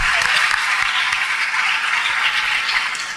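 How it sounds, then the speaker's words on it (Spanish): An audience at a school awards night honoring top students gives a strong, continuous round of applause, a thick wash of clapping that stays loud and fades slightly at the end. "Regalémosles de nuevo un fuerte aplauso."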